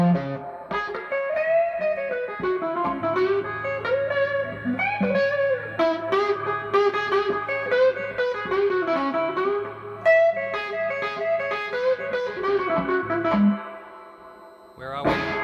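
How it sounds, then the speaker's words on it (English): Instrument notes run through a Fender-style spring reverb unit with the mix turned far up, giving washy, echoing tails and a boingy splash at the end, loud and continuous for about fifteen seconds. "this is just adding more and more of the reverb effect signal"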